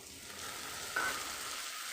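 Dried fish (shutki) frying in a kadai, a soft continuous sizzle with a slight surge partway through as it hits the oil, close and fairly quiet, no talking.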